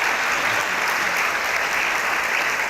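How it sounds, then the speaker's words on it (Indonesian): Studio audience applause on an Indonesian talk show, a steady dense clapping that fills the whole moment at a loud, even level with no break. "Tepuk tangan nih"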